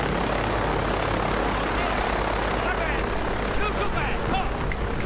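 An aircraft engine drones steadily and loudly in the Battlefield 3 video game, a thick continuous roar with a faint rhythmic chop. Someone talks over it.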